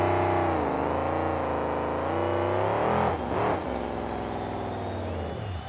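A monster truck engine at a freestyle show roars steadily and loudly, its pitch shifting as the truck crawls over a semi-trailer obstacle, with a brief surge of revving near the middle.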